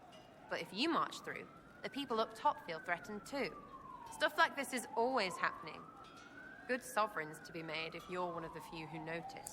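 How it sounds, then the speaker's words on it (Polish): An ambulance siren passes outside a window, wailing in slow rising and falling sweeps throughout, with someone talking over it and game sounds underneath. "Mam nadzieję, że nie słychać tej karetki, co akurat przejeżdża pod moim oknem"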